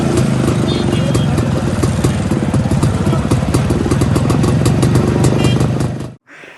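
Jawa motorcycle engine running close and loud, with a steady, rapid thumping beat and mechanical clatter for about six seconds before it abruptly drops away.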